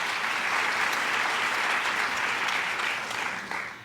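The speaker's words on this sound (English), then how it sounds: "I feel like that deserves a round of applause," An audience at an awards gala gives a round of applause for a girls' bowler of the year, a sustained, even wash of clapping that tapers off in the final moments.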